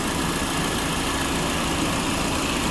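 A car engine idles steadily with the air-conditioning compressor running, giving a constant broadband hum and whir at moderate level with no talking.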